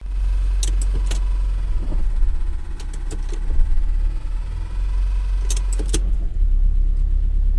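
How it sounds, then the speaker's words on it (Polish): A car engine runs with a low rumble, interrupted by several sharp metallic knocks and clunks in short clusters from the gearbox as it shifts into N, R and P, close by and without talking. "A tak brzmiał jak się zmieniało biegi."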